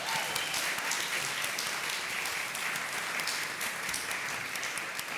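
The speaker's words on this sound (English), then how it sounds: "I'd love it to give a round of applause to Mike." An event audience at SXSW in Texas applauds Mike Meyer, a steady wash of many hands clapping that fills the room evenly from start to finish, with no talk over it.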